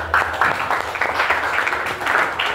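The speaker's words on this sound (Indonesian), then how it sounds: "tepuk tangan untuk kita semua" A classroom group claps together briefly at moderate volume, quick uneven hand claps blending into short applause lasting a couple of seconds.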